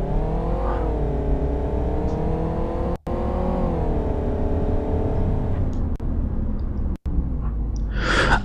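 A car in the driving game CityDrive accelerates, its engine note climbing steadily and loudly over several seconds with two brief cutouts, no talking.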